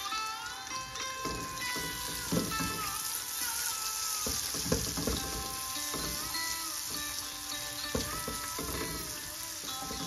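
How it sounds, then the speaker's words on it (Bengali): Finely chopped garlic sautés in butter in a single pot for a chicken pish pash, giving a continuous close sizzle broken by repeated stirring scrapes and clatter. "রসুনটাকে বাটারের মধ্যে সতে করে"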